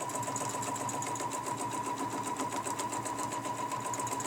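A sewing machine runs steadily, stitching fabric along a quilting ruler with a continuous rapid mechanical chatter, close and even in rhythm for the whole stretch.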